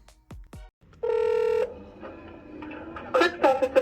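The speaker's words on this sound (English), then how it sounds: "So here is a phone call from that conversation." A telephone call placed to a clerk's office opens with a quick run of touch-tone dialing beeps, then a sustained tone, with faint talk and further tones following.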